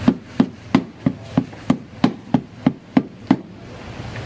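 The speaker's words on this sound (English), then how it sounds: "And here's a drum beat you've probably heard from those movies and TV." A hide drum plays a steady Hollywood-style beat of about ten evenly spaced, sharp close strikes, then falls quiet at the end. There is no talk over it.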